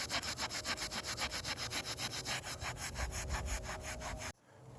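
Tree sap being scrubbed off a vinyl car roof, a rhythmic rasping back-and-forth rub repeating in quick, even strokes, fairly close and steady, stopping suddenly near the end.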